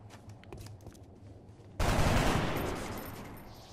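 In XCOM Long War, a quiet, rumbling background suddenly breaks into a loud, sustained burst of rapid gunfire that slowly fades.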